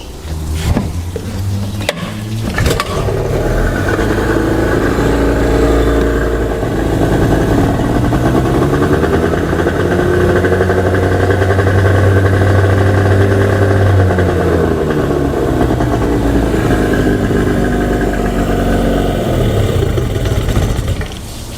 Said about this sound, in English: Now I'll just fire it up and we'll see how it goes with the regulator rectifier attached.